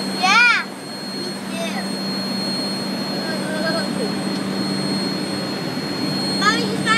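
Steady jet engine drone fills an airplane cabin throughout, a constant broad roar with a faint high whine, while a voice chirps over it near the start and end.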